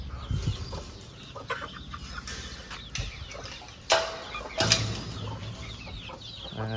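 Chickens cluck and fuss inside a farm coop holding breeding roosters, hens and chicks, with steady clucking throughout and a couple of louder squawks or wing flaps, close by and without talk.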